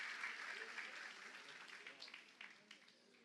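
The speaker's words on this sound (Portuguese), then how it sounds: "Receba o homem de Deus com palmas nessa noite." A church congregation claps to welcome a bishop at an evening service. The applause is dense and steady, fairly faint, thins gradually toward the end, and carries some crowd voices.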